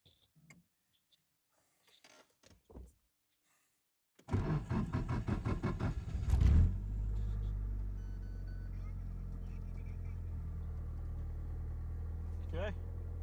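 A Nissan Silvia turns over with a rapid starter chatter, then its engine catches and settles into a steady, close idle hum after a few quiet handling clicks.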